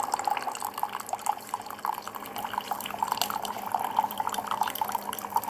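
A small CHULUX coffee maker gurgles and drips steadily as hot water trickles through, a quiet continuous bubbling with soft droplets, close by.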